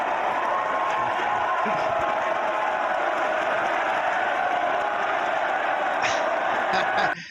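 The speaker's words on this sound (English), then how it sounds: "The crowd giving him a standing ovation for his admission." A large wrestling arena crowd gives a standing ovation, a continuous loud roar of cheering and clapping with scattered whoops that holds steady before cutting off abruptly.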